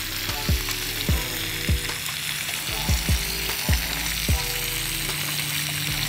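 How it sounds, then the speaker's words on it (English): Bacon sizzles steadily on a Blackstone griddle, a constant frying hiss broken by several soft low thumps of strips being handled or turned, close and with no voices. "there is nothing like the smell of bacon sizzling on the Blackstone"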